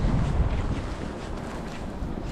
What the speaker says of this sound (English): It's like there's a wind corridor.